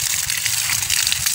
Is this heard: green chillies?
no